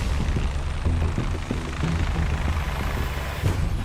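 Heavy rotor-like engine rumble with a pulsing low throb, steady and loud throughout, like a helicopter close by.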